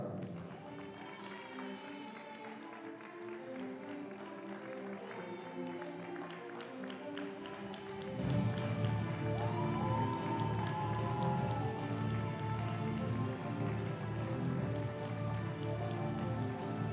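An arena crowd applauds the German women's team at a 2024 qualification event, steady clapping that swells noticeably louder partway through and holds a dense, continuous roar with a voice over a public address.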